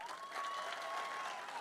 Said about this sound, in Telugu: ఉప సర్పంచులు గట్టిగా ఒకసారి చప్పట్లు.